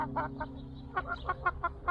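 A hen clucks close by in short rhythmic bursts, a few quick clucks, a pause, then a steady run of repeated clucks over a low background hum.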